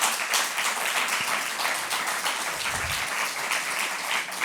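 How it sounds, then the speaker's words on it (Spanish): A church audience breaks into sustained applause, a steady, full roar of many hands clapping at close range that holds evenly from start to finish. "¿No se merece un aplauso?"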